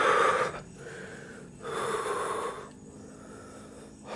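Heavy, labored panting from a man, short gasping and snorting breaths in uneven bursts, close and fairly loud, while exploring an eerie graveyard at night.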